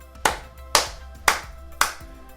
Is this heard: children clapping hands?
yes